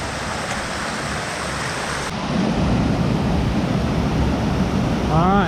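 Loud, steady broadband rush of a waterfall on a New York hiking trail, heard up close without pause; the roar thickens and grows slightly louder partway through.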